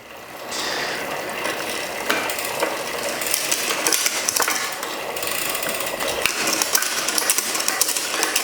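The gears on a custom-built Rourke bicycle shifting during a service, a steady loud clatter of chain and drivetrain with repeated mechanical clicks and ratcheting, close up throughout with no talking.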